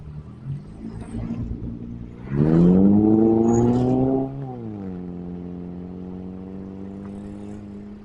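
A car engine revs up hard to overtake on a winding mountain road near Wonosobo, the drone rising in pitch for about two seconds before easing back to a steady cruise hum. No one speaks.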